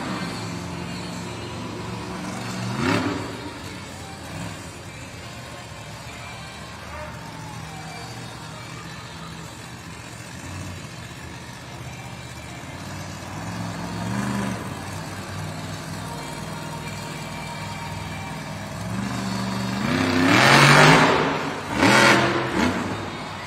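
A Monster Jam monster truck on BKT tires, driven in reverse up a ramp at an arena event, its engine rumbling steadily with a few surges and two loud revving bursts near the end.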